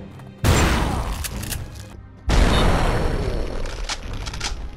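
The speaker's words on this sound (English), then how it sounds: "You'll get a pump action double barrel right off the bat" A pump-action double-barrel shotgun in the N64 shooter Turok 3 fires two heavy, booming blasts, about two seconds apart, each loud and close with a long decaying tail.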